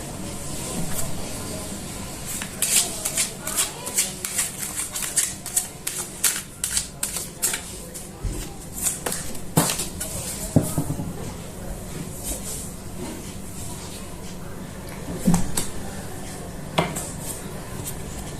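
Tarot cards shuffled by hand in a reading, giving a rapid run of crisp riffling clicks and slaps, a few louder snaps as cards drop and fall, with light rustling between bursts and no talking.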